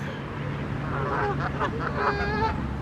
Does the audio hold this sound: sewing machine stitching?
no